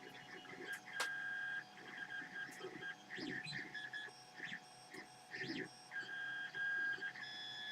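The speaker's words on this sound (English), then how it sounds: "Can you hear the difference in sound as I increase the print speed?" A 3D printer running at 200% print speed, its stepper motors whining in rapid changing tones and bursts with clicks, steady and close throughout.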